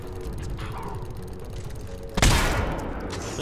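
Gunfire in Mass Effect 3: faint mechanical clicks and rattles give way to one sharp, loud burst of shots that decays into a rumbling tail.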